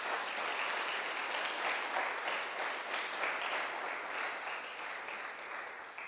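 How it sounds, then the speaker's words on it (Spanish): A church congregation applauds loudly during a Sunday morning service, a steady wash of many hands clapping that holds for several seconds and tapers slightly at the end. "Dale un fuerte aplauso esta mañana a ese Señor"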